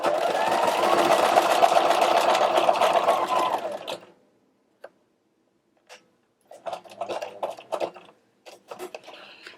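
A sewing machine stitching a buttonhole on a denim jacket, a loud, close, steady mechanical whir lasting about four seconds. It stops for a pause, then gives way to scattered clicks and fabric handling.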